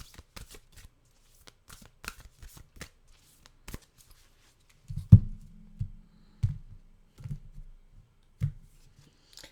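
A deck of oracle cards is shuffled by hand, a run of quick dry riffling clicks for several seconds, followed by softer scattered taps and thumps as the cards are handled.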